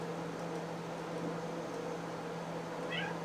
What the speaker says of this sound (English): I'm going to bring my cat over here and let him have his moment.